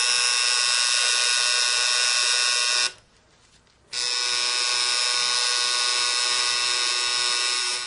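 Tattoo machine needle buzzing steadily while setting ink into skin, a close, bright electric whine that cuts out for about a second before resuming unchanged.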